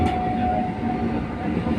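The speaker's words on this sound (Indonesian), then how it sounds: "Nah keretanya sudah datang, kita langsung masuk saja." A commuter train at Cibitung station rumbles close by with a steady low drone and a sustained tonal whine, filling the platform continuously for the whole stretch.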